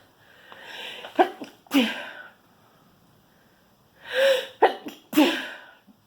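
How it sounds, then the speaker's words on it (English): Two sneezes, each with a drawn-in breath before the sharp burst, separated by a short quiet gap; close and moderately loud. "And I'm going to sneeze."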